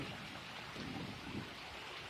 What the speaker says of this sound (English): Look how the water is just pouring into my catch basins, and they're working perfectly.